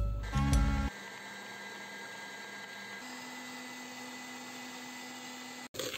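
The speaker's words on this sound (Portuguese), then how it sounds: "Agora eu vou colocar na batedeira para dar uma batidinha." Electric mixer beating butter, sugar and egg yolks for a buttery cake batter: a few clunks as it starts, then a faint, steady motor whine that holds, ending with a brief knock.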